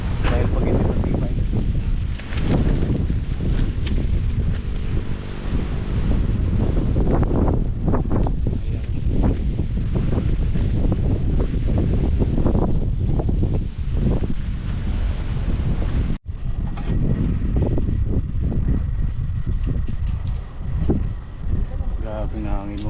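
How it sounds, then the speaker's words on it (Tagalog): Strong wind buffets the microphone in loud, continuous roaring gusts at a high peak campsite, with a person talking now and then underneath. "Malakas. Grabe na hangin."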